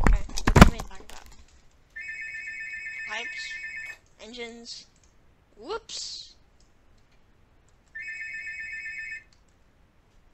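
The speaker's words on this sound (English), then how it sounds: "someone's ringing the phone" A telephone rings in bursts during a Minecraft Tekkit Classic play session: a steady electronic ringtone lasting about two seconds, repeated a few times with gaps, while voices talk and exclaim between the rings after a sharp click.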